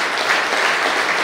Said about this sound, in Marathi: आपल्या ह्या लोकांचं जोरदार टाळ्या वाजवून अभिनंदन करूया.